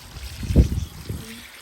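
Water poured into a cockatoo enclosure along a river walk-style feature, giving a brief close splash and trickle that swells and fades over under two seconds.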